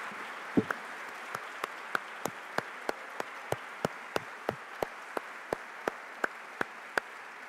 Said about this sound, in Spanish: Ovación más que merecida